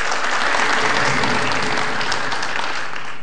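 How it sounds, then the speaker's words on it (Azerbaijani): A studio audience at an Azerbaijani quiz show applauds, a dense, loud, even wall of clapping that holds steady for a few seconds without voices breaking through. "Alqışlar."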